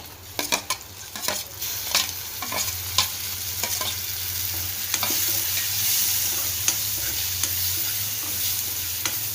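Tomato with turmeric and coriander powder frying in oil, a steady close sizzle broken by sharp clicks and scrapes of a spoon stirring in the pan, with a low hum underneath and no talking.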